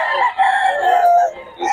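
A rooster at the Bocaue market crows loudly and close by in a drawn-out call, followed by a brief second burst at the end.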